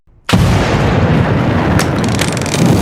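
A sudden huge explosion from the finale of The Walking Dead: The Ones Who Live bursts in after near silence, then a sustained loud roaring rumble with crackling debris.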